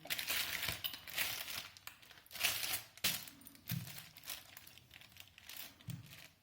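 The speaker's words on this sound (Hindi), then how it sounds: "और इस तरह से पॉलीथीन को घुमाते हुए पापड़ बना लेंगे।" A polythene sheet crinkles as rice papad dough is pressed and turned between its layers, giving soft, quiet, repeated crackles and rustles in irregular bursts close by.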